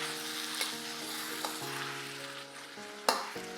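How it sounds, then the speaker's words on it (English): Seasoning poured over stir-fried shredded vegetables comes to a boil in the pan, hissing and sizzling steadily, with a few sharp stirring clatters and tonal music running underneath. "Let the seasoning come to a boil."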